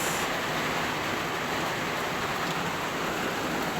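Rain pours on a roof riddled with holes, and water drips inside the house on a cold night. A quiet, continuous wash of rainfall carries through without a break.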